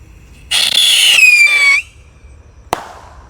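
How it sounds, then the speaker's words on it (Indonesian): A pyrotechnic firework rocket ignites and launches with a loud, close, shrill whistling screech that falls in pitch over about a second, followed by a sharp crack. "Di sini ada roket pirotor. Kita lihat ya. Sudah menyala. Siap meluncur"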